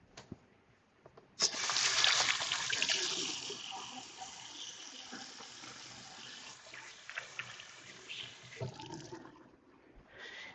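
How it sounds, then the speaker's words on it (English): Tap water runs steadily into a kitchen sink during handwashing, a broad hiss that starts abruptly, holds fairly loud for several seconds, then eases with small splashes and clatter near the end. "Now, next, wash my hands."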